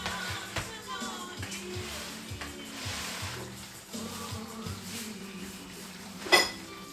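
Mashed potatoes for a cottage pie are scraped into a dish over beef, with soft clinks and scrapes of a utensil against the dish, intermittent and close.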